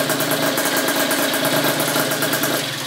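A Honda Dio 72cc scooter engine fitted with a prototype exhaust that leaks near a slip joint runs steadily, a loud, close, buzzing drone with a fast rattling pulse and no pauses.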